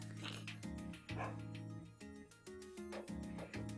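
A female pet dog barks and yelps in a series of short bursts, heard faintly behind ongoing game music with no voices.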